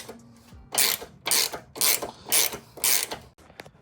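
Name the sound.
tightening a fitting with a 19mm tool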